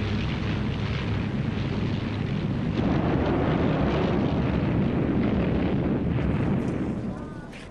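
Luftwaffe aircraft attack on Malta in 1942 during the Second World War, a dense, continuous roar of engines and blasts that holds loud throughout and fades near the end.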